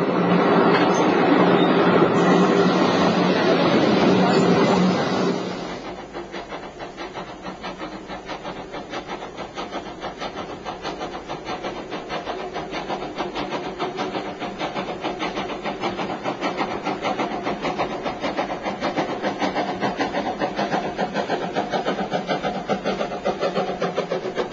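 The historic 1887 steam tram locomotive of the Kintavi steam tramway, the world's oldest still-operating steam-hauled street railway, runs along, a loud rushing burst at first, then a steady rumbling, clattering roll.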